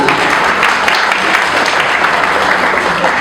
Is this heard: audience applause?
yes